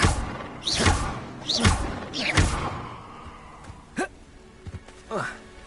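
Spell effects from Hogwarts Legacy, with the Accio casting among them: a string of sharp whooshing bursts and thuds in quick succession, followed by softer short swishes and clicks, fairly loud and close.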